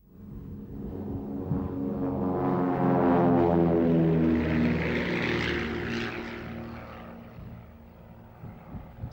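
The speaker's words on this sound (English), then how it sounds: "Specially fitted light aircraft can be ready at short notice whenever conditions appear suitable." A specially fitted light propeller aircraft used for cloud seeding in 1968 passes overhead, its droning engine swelling from a distance to a loud peak, then fading, with no talk.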